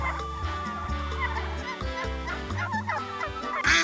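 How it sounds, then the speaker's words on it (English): Turkey gobbling on a farm, a fairly loud fluttering call heard over background music, with no voices during the sound. "This is a turkey. T-U-R-K-E-Y, turkey."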